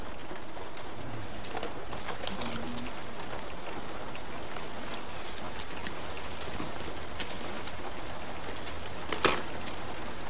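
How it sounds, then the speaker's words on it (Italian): Steady rain falls in Los Angeles, a dense, even hiss of drops on surfaces lasting throughout, with one sharper splash or knock near the end and no talking. "Sta piovendo."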